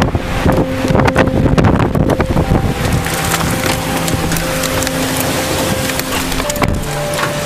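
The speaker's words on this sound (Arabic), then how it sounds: "شوفوا قوة هاي العاصفة" A strong storm wind in Dubai, UAE roars and buffets loudly, with creaking and rattling knocks and a few tonal whistles or hums running through it.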